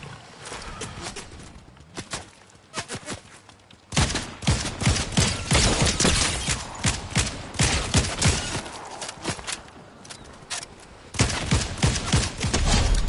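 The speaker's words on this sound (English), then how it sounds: "Where are you shooting me from?" Gunfire in Fortnite: a close, loud stream of sharp shots in irregular rapid bursts that runs almost without a break.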